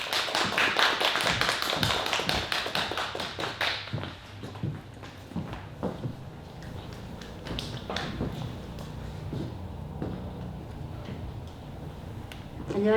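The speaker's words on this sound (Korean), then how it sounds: "이윤아 대표님을 박수로 무대로 모시겠습니다." An audience at a humanities book-concert lecture claps to welcome the speaker to the stage, brisk applause that fades after a few seconds into scattered claps and quiet room sounds.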